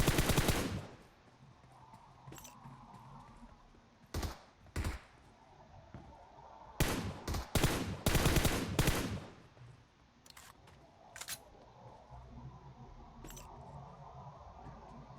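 Gunfire in the PUBG Mobile game Metro Royale, several loud bursts of rapid automatic fire and single shots separated by quiet gaps, with faint metallic clinks between them.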